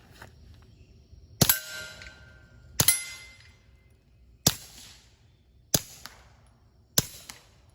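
Five suppressed shots from a Keltec P17 pistol fitted with a Rugged Mustang suppressor, each a sharp metallic crack with a short ringing tail, evenly spaced over several seconds and fairly close.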